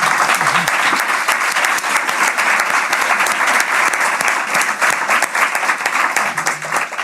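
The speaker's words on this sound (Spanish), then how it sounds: "un fuertísimo aplauso para ella" A strong burst of audience applause fills a lecture hall at a gender violence course, dense and steady clapping from many hands held close and loud for the whole stretch, with no talk over it.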